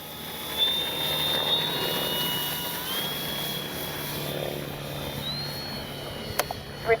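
An FMS 1400mm F4U Corsair RC warbird plane flies past with a faint, distant propeller whine that drifts in pitch over steady background noise, ending with a couple of sharp clicks.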